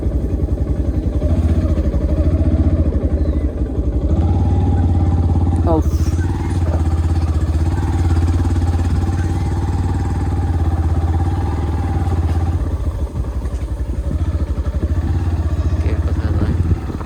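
A motorcycle rumbles steadily while being ridden, a continuous low engine drone with wind and road clatter, loud and close throughout, with speech mixed in.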